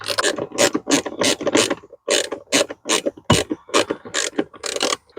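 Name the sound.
driving in two 7mm screws, Ford F-150 cabin filter cover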